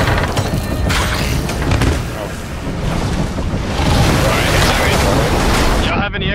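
Cannon fire rings out during a ship skirmish against skeleton ships in the pirate video game Sea of Thieves, with booming blasts and crashing sea and wind noise under excited players talking.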